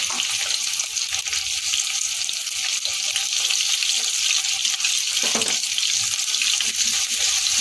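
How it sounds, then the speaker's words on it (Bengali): Eggplant pieces with a little turmeric and salt fry lightly in oil, producing a loud, even, unbroken hiss of sizzling with a few faint stirring clinks and no speech. "বেগুনগুলোকে আগে তেলের মধ্যে হালকা করে ভেজে আমি তুলে নেব"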